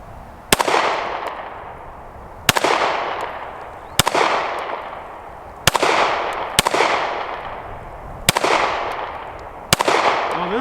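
A Taurus G3c pistol fires at bowling pins outdoors: seven loud, sharp shots come at uneven intervals a second or two apart, and each one rings out in a long, fading echo.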